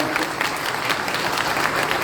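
Full, dense audience applause at the opening of a Brazilian cardiovascular surgery congress, a large hall of hands clapping continuously and loudly, a steady wash of sound with faint crowd murmur beneath.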